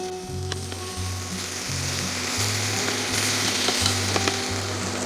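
Spicy lemon garlic chicken pieces browning on both sides in a pan, giving a steady, close sizzle and crackle that runs without a break, with a low droning hum under the frying and no talk.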